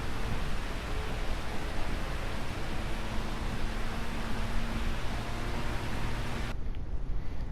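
Warm desert rain falling during a track day drive, a steady broadband hiss of rain on the car mixed with road and cabin noise, constant and fairly loud, cutting out abruptly near the end.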